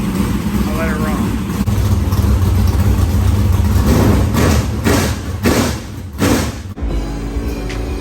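A race car engine runs after a wash, loud and close, with a steady rumbling drone broken by a few surging bursts and thumps near the end.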